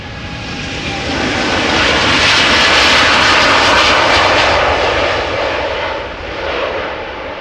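American Airlines airliner at Amsterdam Schiphol Airport: a loud, steady engine roar that swells to a peak midway and then eases off, heard from outside with no talk.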